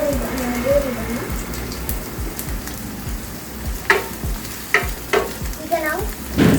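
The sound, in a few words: onions frying in oil in a pan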